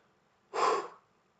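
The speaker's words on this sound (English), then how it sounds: "If we're out of breath, we're panting." A single short, breathy exhale, like someone out of breath and panting, close and fairly soft, lasting about half a second against a quiet background.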